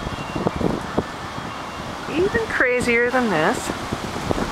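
Strong wind blowing outdoors on a blustery day in Albany, a constant broad rushing roar buffeting the microphone, with someone talking over it.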